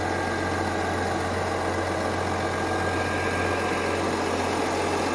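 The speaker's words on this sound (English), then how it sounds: "Sitting here, it's a pretty quiet engine for the most part. Cooling fans have kicked on right now on a kind of a medium speed." A 2021 GMC Sierra Elevation 1500 with the Duramax diesel idles quietly as a steady low hum, with the cooling fans whirring at medium speed in a continuous even drone.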